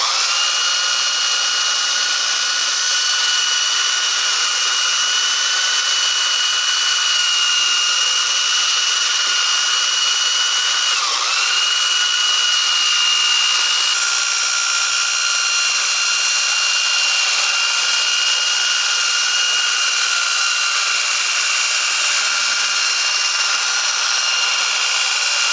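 Electric mixer beating a batch of homemade fabric softener, a steady high-pitched motor whine running continuously and evenly throughout, close and fairly loud, with no talking.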